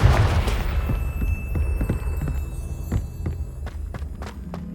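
A Confringo fire spell cast in the Hogwarts Legacy video game: a loud fiery burst up front, then a string of sharp thuds and crackling impacts fading over a few seconds, with no talking.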